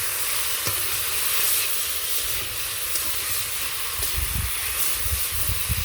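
Tomatoes fry in hot oil with a continuous close hiss and sizzle, broken by soft stirring and scraping thumps toward the end.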